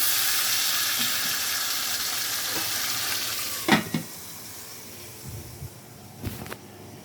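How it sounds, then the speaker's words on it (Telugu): Chicken pieces are stirred into a cooking pot with a sizzling, frying mixture, steady broadband hiss throughout, with a few louder scrapes and knocks near the end, no voices. "దీన్ని కలుపుకొని మూత పెట్టి మగ్గించుకుందాం"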